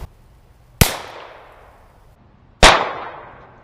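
Two sharp .22LR shots from a Ruger Wrangler revolver fired at a foil target 12 feet away, each a loud, close crack with a ringing decay, spaced almost two seconds apart.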